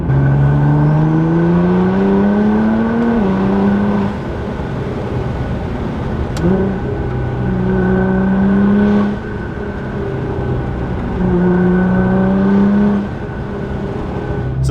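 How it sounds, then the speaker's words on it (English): An R35 Nissan GT-R engine revs up repeatedly with the exhaust valve open, rising in pitch through several accelerations, loud and close with a throaty exhaust note. "let's enjoy that valve open a few times, get a few little accelerations in the car"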